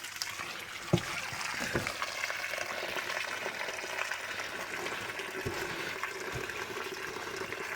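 Hurricane floodwater trickles and gushes steadily out of flooded Trane heat pump ductwork, a continuous splashing flow close by with a couple of faint knocks.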